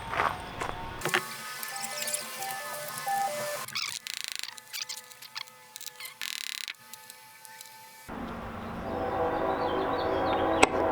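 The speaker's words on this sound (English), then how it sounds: "Train's here." A train passes close by outdoors, its rumble and wheel clatter rising and falling over about eleven seconds, with long tonal horn or whistle lines and scattered metallic squeals, the loudest stretch near the end.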